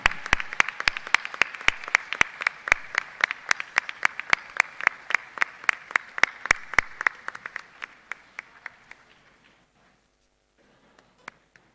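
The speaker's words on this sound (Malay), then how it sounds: "Marilah kita berikan tepukan yang gemuruh untuk ayah dan ibu serta keluarga anda yang hadir pada hari ini" Graduates' parents and families at a university convocation ceremony get applause made of sparse, distinct claps in a loose rhythm that thin out and fade to silence, with a few stray claps at the end.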